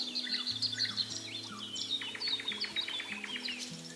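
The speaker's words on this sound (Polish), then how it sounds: "słyszę te ptaki tutaj na tej działce" Small birds chirp and trill in quick bursts, bright and fairly close, in a garden allotment in May, over a low steady hum in the background.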